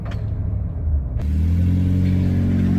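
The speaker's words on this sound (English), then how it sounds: "So hopefully you can hear the truck a little better" A 2012 Toyota Tundra TRD Sport DoubleCab truck with a 600+ horsepower engine revs up into a deep, loud, steady rumble, heard close from inside the cab with no talk.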